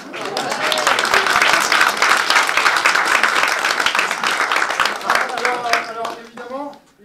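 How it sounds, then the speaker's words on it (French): Steady, loud audience applause at a cabaret after a devil stick juggling act, dense clapping that fades out toward the end, with a voice speaking over it. "Regarde public, applaudissements."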